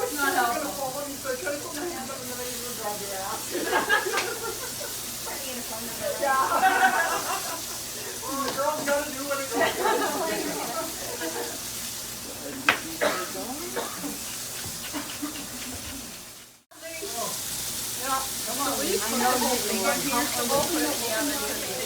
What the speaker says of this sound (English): That's the meat actually caramelizing and going through a chemical process.